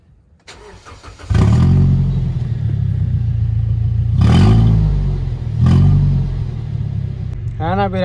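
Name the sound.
Toyota Fortuner engine revving with cut-off exhaust open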